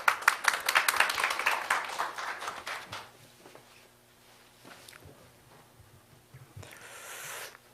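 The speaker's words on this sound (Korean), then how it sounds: "큰 박수로 맞아주시기 바랍니다." Audience applause at the opening ceremony of an international data sovereignty forum, a dense burst of clapping that is loud at first and fades out after about three seconds, followed by quiet room tone and a few faint shuffles.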